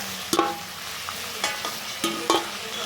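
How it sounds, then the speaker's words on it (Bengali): Chicken pieces frying in hot oil in a pan for a Bengali tomato chicken give a steady close sizzle, broken by a few sharp clinks of a utensil against the pan. No voices. "চিকেনটা আমার ভাজা হয়ে গেছে, অনেকটা কালারটা চেঞ্জ হয়ে গেছে"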